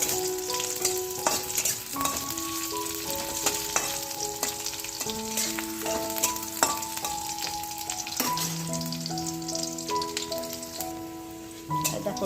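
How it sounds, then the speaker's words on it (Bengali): Garlic and chili frying in a little oil in a pan, a steady close sizzle and spatter running throughout beneath tonal background music. "অল্প একটু তেল দিয়েছি আর এই লঙ্কা আর রসুন রসুনটা ভালো করে ভাজা হয়ে গেলে"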